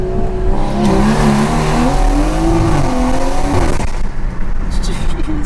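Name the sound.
tuned Stage 2 BMW 340i accelerating hard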